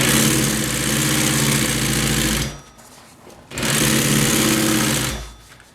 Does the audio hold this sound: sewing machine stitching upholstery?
yes